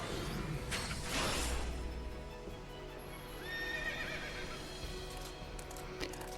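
Horse in the video game Final Fantasy XIII gives a clear whinny amid clip-clopping hooves and a whooshing transformation effect, fairly close and without talk.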